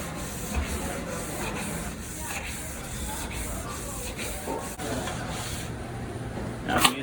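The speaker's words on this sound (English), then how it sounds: "scrub it real good." A cleaning pad scrubs hard across a grill surface, a close, steady, rasping hiss with rhythmic strokes and brief pauses, no one speaking.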